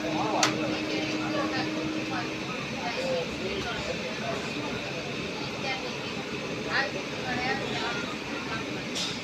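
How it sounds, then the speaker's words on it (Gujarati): A passenger train running between Dhola and Bhavnagar just after departure, with a continuous low rumble and rolling noise, a steady tone near the start and occasional clanks and knocks over the din. "મિત્રો આપણી ટ્રેન પણ ઉપડી ચૂકી છે."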